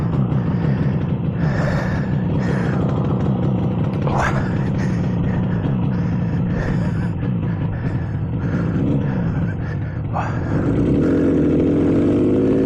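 A smoky 1967 Yamaha YR1 motorcycle engine runs steadily and loudly close by, a dense buzzing rumble that swells slightly near the end.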